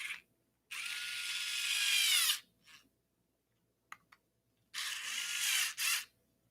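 A part being tightened on a Prusa MMU2S multi-material 3D printer upgrade, two longer bursts of a close whirring, ratcheting driver separated by short clicks and a silent gap, no talking.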